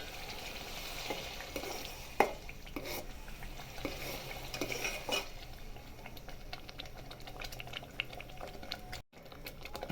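Crushed tomato paste sautés slowly in a pan on a gas stove with the flame turned up slightly. A steady, soft sizzle and bubbling runs throughout, with a few light stirring clinks and no talking.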